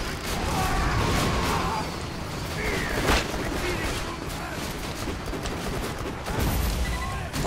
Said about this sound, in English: That buzzard went down, man. In a super explosion